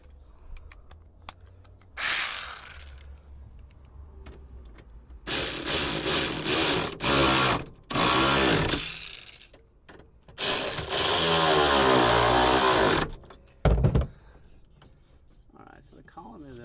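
Bolts being fitted to hold the steering column of a 1975 Chevy C3 Corvette, with several bursts of close rasping and ratcheting wrench noise between quiet pauses.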